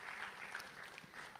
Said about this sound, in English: With a round of applause one more time for our panelists.